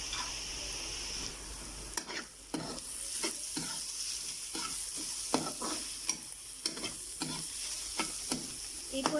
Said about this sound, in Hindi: प्याज को हमने हल्का सा फ्राई कर लिया।